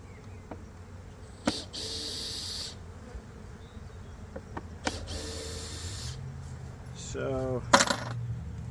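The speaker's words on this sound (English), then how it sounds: "Let's pull the screws out." A power drill pulls screws from a wooden beehive box in short whirring bursts, interspersed with faint buzzing of bees and small clicks and clatters nearby.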